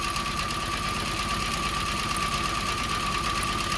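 A Mini engine idling with the spark plug lead pulled off cylinder 2, giving a steady, loud, uneven thrumming with a constant mechanical whine and no speech.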